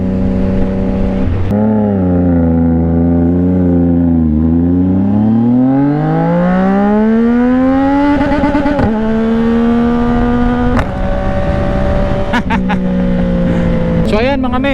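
A CFMOTO 675NK motorcycle fitted with a full-system exhaust revs loudly and steadily up close, its pitch dipping, then climbing and holding high with a few sharp blips, continuous and alone throughout.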